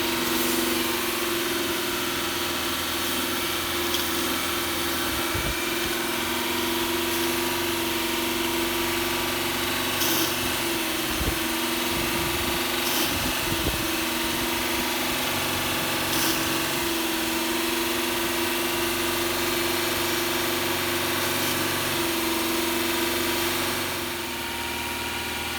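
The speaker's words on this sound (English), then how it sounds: "with the engine running, I'm gonna have somebody hold down the throttle and keep the engine running at about 2500 RPM" A 2017 Honda Pilot engine held at a steady elevated speed of about 2500 RPM during a direct-injection valve cleaning, giving a constant close mechanical drone with a strong low hum and occasional brief knocks, with no talking.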